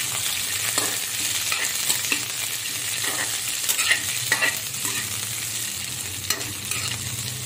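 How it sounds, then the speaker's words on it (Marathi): Cluster beans (guar) frying in a little oil in a pan, a steady close sizzle with occasional stirring scrapes running throughout, no voices. "थोड्याशा तेलामध्ये आपण गवारी भाजून घेऊया"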